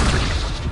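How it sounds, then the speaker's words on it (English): Accio summoning spell cast in Hogwarts Legacy, a short, dense, loud whooshing burst with rumbling low end, heard alone and filling the whole moment. "Accio."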